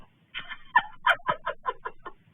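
A run of rapid, throaty turkey clucks and gobble-like calls, about eight bursts in quick succession, fairly close.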